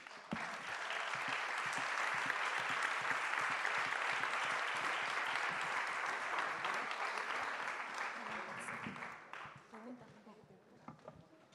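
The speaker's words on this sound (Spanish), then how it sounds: "Un gran aplauso." Sustained audience applause at a talk on art, care and neurodegenerative diseases, a dense wash of clapping that swells and holds for most of the clip, then thins out and fades near the end.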